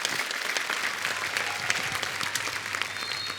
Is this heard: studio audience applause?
yes